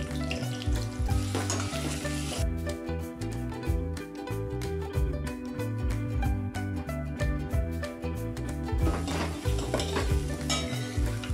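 Ginger garlic paste sizzles in hot oil in a pan while a spoon stirs it, a steady loud frying hiss broken by rapid scraping strokes, with no talking.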